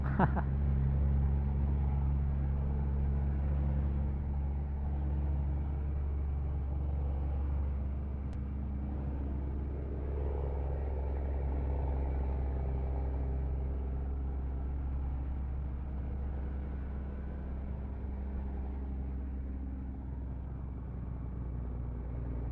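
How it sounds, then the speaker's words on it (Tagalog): Heavily loaded giant trucks on a road between Quezon and Laguna, passed on a motorcycle ride, give a steady, close, loud low engine rumble and road roar that holds for the whole stretch with no break. "Wow, ang mga dambuhalang truck."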